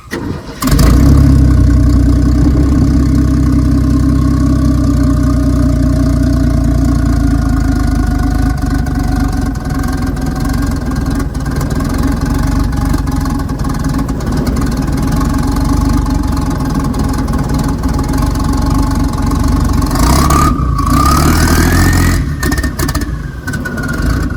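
A turbocharged 1964 Chevrolet Biscayne engine fires up and settles into a steady, loud idle with a rising turbo whine layered over the rumble, swelling and shifting near the end.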